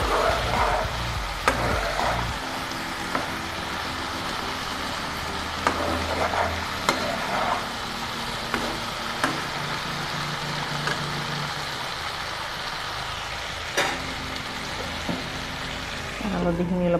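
Turmeric fries in a pan while a pumpkin dish cooks, giving a steady close sizzle broken by scattered sharp clicks and scrapes of stirring.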